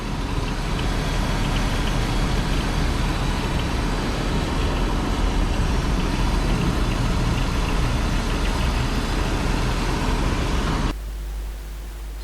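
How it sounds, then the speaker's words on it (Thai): A BMW E39 523i engine idles steadily with a smooth, even hum and faint mechanical ticking, the audible noise coming from the belt tensioner and alternator belt pulley, then cuts off abruptly near the end. "เครื่องยนต์ค่อนข้างเงียบนะ เดินเรียบนิ่งปกติครับ"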